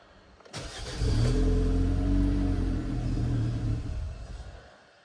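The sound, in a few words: Kia Carens engine started, running until it stalls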